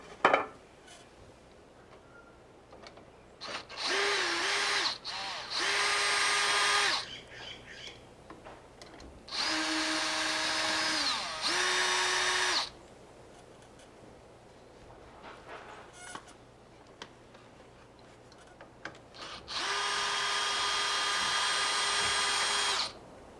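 A power drill drives screws into wood on a backyard play structure during a pull-up bar replacement, with several loud whirring bursts of a few seconds each, separated by quiet gaps and occasional clinks of handling.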